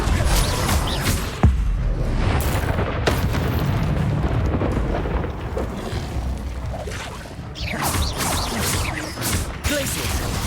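Spell blasts and booming explosions from combat in the video game Hogwarts Legacy, loud crashes and impacts piling up over a continuous roaring battle din with no pauses.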